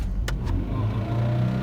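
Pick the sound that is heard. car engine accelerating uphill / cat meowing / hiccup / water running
car engine accelerating uphill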